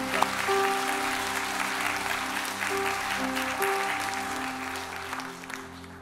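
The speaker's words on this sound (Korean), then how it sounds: "우리 따뜻한 환영의 박수로" A church congregation at a Sunday service applauds to welcome a guest pastor, sustained dense clapping over a faint steady tonal hum, with no speech.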